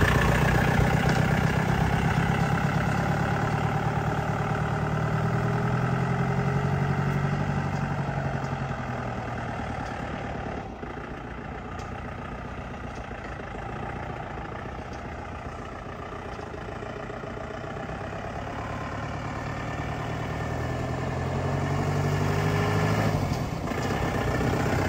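A Mahindra Bolero engine fitted in a modified jeep idles with a steady, continuous rumble, close and even throughout, with no talking.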